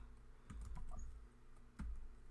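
Computer keyboard typing, a short burst of several close, distinct key clicks in an irregular rhythm, heard alone without talk.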